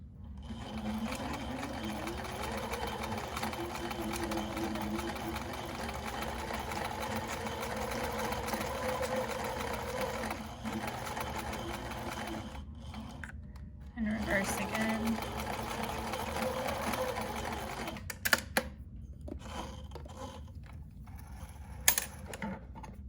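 A sewing machine stitches a fabric mask in fast continuous runs of rattling needle strokes, pausing briefly partway and near the end, with a person talking over it.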